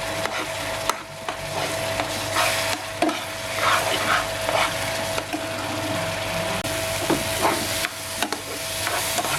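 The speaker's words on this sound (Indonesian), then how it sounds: "Kemudian langsung kita aduk rata sampai mengental." A banana and cornstarch mixture is stirred in a pan over the heat, giving a steady run of soft scraping and sticky stirring strokes, close and fairly loud, with a light sizzle beneath and no talking.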